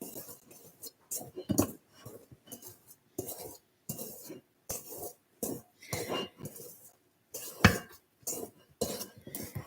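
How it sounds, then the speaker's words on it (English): A spoon stirs banana nut bread batter in a bowl, producing repeated scraping clinks against the bowl in bursts with short pauses, close and fairly loud. "I'm trying to get this stirred up"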